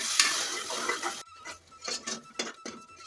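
Ground tomato paste fries with turmeric, chilli powder, salt and biryani masala in a pan for tomato biryani, a loud hiss and sizzle at first, then quieter bubbling broken by several scraping stirs of a spoon against the pan.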